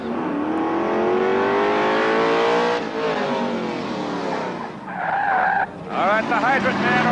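At a 1977 firemen's competition, a fire truck launches off the starting line with a loud rising engine roar and tire squeal, sweeping close past, with commentary underneath.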